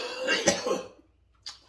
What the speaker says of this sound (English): I'm coughing extra much this morning